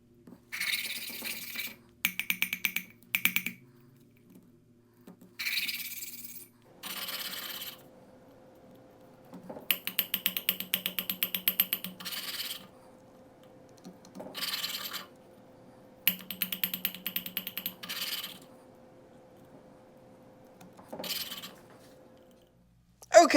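Predator mini bike engine valves being lapped by hand, giving repeated bursts of gritty scraping and tapping separated by short pauses, close and moderately loud, with a steady low hum underneath.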